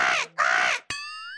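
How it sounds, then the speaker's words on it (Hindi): A crow gives two harsh, loud caws in quick succession, close and clear, followed by a sharp tonal ringing sound that lingers to the end, with no talk. "अरे अरे वो देखो काला कौवा आ रहा है"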